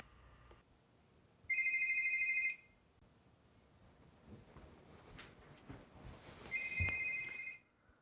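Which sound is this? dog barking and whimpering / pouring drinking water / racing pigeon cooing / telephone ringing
telephone ringing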